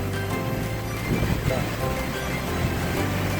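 Heavy rain pours steadily at an outdoor construction site, a dense close hiss with a voice speaking over it.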